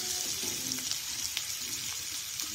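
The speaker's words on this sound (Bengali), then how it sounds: "মশলাটাকে আমি ভালো করে কষিয়ে নিয়েছি। মশলাটা ভাজা ভাজা হয়ে গেছে।" Spice masala for chicken kima chana masala, browned well, fries in a pan with a steady, soft sizzle and occasional stirring scrapes throughout.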